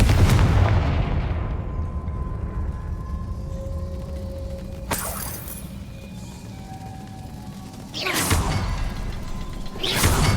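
Confringo blasting spell bursting in a Harry Potter game, a few sharp explosive cracks spaced several seconds apart, the last two close together, over a low rumbling ambience.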